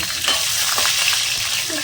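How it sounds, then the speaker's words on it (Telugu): Green chillies sizzle in hot oil with tempering spices, a loud, continuous hiss with small crackles and pops from close by. "పోపు దినుసులు వేడయ్యాక 4-5 పచ్చిమిర్చి వేసుకొని"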